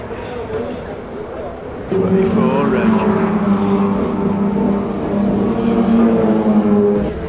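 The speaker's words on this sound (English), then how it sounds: "The MGs are out on circuit for the first of the qualifying sessions at the moment" MG race cars out on the Oulton Park circuit during a qualifying session produce a steady, droning engine note that swells in after a quiet start and holds on, with talk partly over it.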